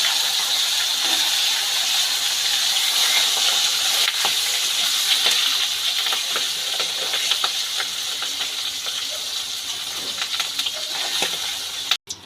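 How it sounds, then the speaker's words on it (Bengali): Fish fat sizzles steadily in hot oil over low gas, cooked for Bengali note greens, a constant bright crackle with scattered sharp pops throughout, close and fairly loud with no talking. "মাছের তেলটা খুব ভালো করে ভেজে নিয়েছি"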